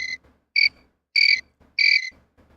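Crickets chirping as a sound effect: four sharp, bright trilling bursts in an even rhythm, close and clear against near silence, with faint low rustles between the chirps.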